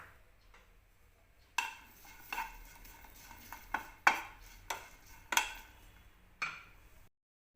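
Cut chilli pieces dropped into a pan on a gas stove make a handful of light, scattered clinks and taps, quiet and close against a soft background hum.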